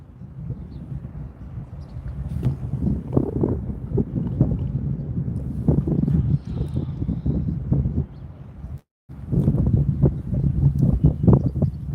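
Steady wind buffets and rushes across the microphone outdoors in the City of Hamilton, Bermuda, a low, gusty rumble with scattered clatter, moderately loud throughout with one brief dropout.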